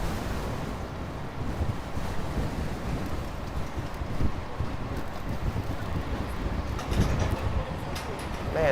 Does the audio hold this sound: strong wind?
yes